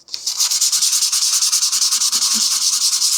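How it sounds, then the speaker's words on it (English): Sandpaper of 220 grit rubs back and forth over a 3D print in quick, even strokes, loud and close, with no voices. "This is 220 grit"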